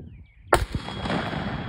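A single rifle shot cracks loud and close, followed by a sustained rush of wind or echo noise. No one speaks.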